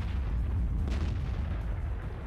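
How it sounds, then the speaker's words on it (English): Heavy booming explosions and artillery-like gunfire from a World of Tanks match, a dense continuous rumble with sharp blasts layered on top, loud and close. "Whoa! Explosions."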